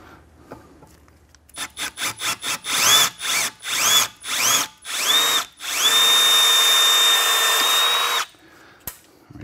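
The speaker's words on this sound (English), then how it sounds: "we're gonna have to drill it out" A power drill whirs in a series of short bursts that rise in pitch, then runs continuously for a few seconds before stopping, loud and close, drilling out a bolt on a C7 Corvette Z06.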